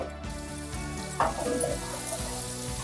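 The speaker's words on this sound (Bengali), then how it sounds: "এবারে আমি আলু ভেজে নেব" Potatoes fry in mustard oil in a pan after crab has been cooked, giving a steady loud sizzle with a brief burst of crackling partway through and no voices.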